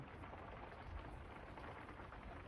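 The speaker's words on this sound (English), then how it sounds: "You can probably hear the rain on the roof in the studio." Steady rain drums on the studio roof as an even, continuous hiss with low rumbling, no voices present.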